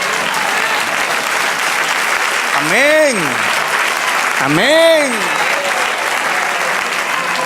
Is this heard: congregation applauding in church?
yes